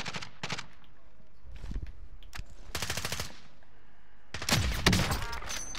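Call of Duty: Modern Warfare gunfire in rapid automatic bursts, several separate volleys spaced through the clip, loud and close with a heavier burst near the end.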